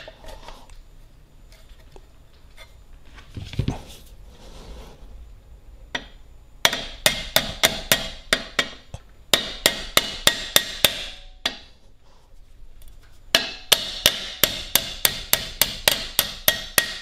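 A hammer taps a pin through a brake and spring, giving bursts of sharp metallic knocks in quick steady rhythm. The blows are close and loud, with quiet handling sounds between the bursts.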